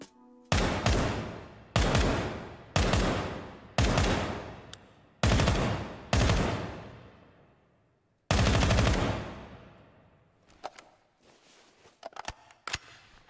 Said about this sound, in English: first up we've got the MK17, so the SCAR